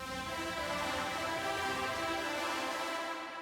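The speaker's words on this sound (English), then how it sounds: "Without the EQ, the reverb sounds like this." A sustained, washy reverb tail on a held tone without EQ, full and bright across the range, steady throughout with no voices.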